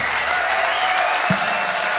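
An audience claps steadily for the singer at a live songwriter performance, a dense, even wash of applause that carries through the whole short stretch.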